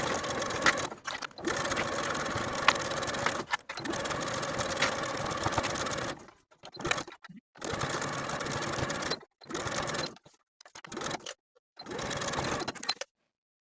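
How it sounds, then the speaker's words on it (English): A sewing machine stitches the bottom and front edges of a Kwik Sew 4162 cardigan jacket band with a 5/8 inch seam allowance, running in close whirring bursts separated by short silent pauses. "Now we're going to sew the bottom and front edges all the way around with a 5/8 inch seam allowance."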